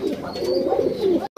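Pigeons coo close by in a low, warbling, rolling run of calls that goes on without a break, then stops suddenly at the end.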